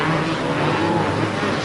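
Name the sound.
motocross motorcycles racing into corners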